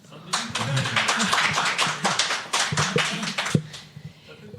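Room audience clapping to vote during a live podcast show: a burst of mixed hand claps rises quickly, carries on for about three seconds alongside a few voices, then thins out and stops.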